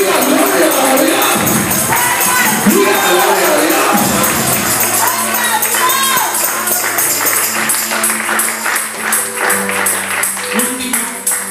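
A church congregation claps in an offering of praise, dense rhythmic clapping building and continuing steadily under a preacher's voice and cheers.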